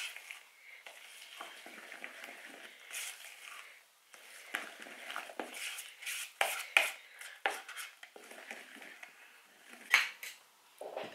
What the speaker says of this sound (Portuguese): Agora vou acabar de deitar a farinha e acabar de mexer.